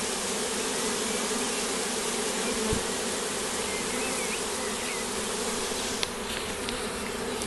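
Incoming swarm of honeybees buzzing steadily and densely all around, a constant close drone with no talking.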